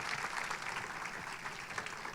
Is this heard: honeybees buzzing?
no